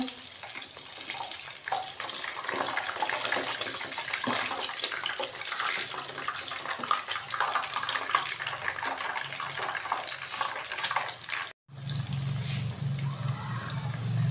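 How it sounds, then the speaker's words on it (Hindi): Fish pakoras deep-frying in oil, a dense continuous bubbling hiss that fills the scene, close and steady, briefly cutting out near the end before resuming. "बाकी के फिश पकौड़े पकने के लिए मैंने ऑयल के अंदर डाल दिए हैं।"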